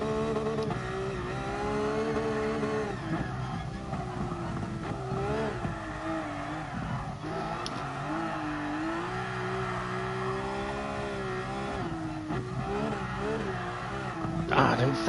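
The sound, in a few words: car drifting on Nordschleife in video game Gran Turismo Sport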